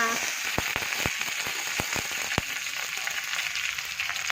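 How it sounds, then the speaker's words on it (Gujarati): Garlic, green chili and curry leaves hit hot oil in a tempering, giving a steady loud sizzle with sharp spitting pops scattered through the first half, no voices. "જોયું વઘાર ભાઈ આને કહેવાય આપણો દેશી વઘાર"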